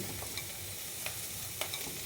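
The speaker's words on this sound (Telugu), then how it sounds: "చెంచా చేసుకుని బాగా కలపాలి" Bitter gourd fry cooked with coriander spice, stirred with a spoon in the pan: a quiet, steady sizzle broken by a few light scraping strokes, heard close with no talking.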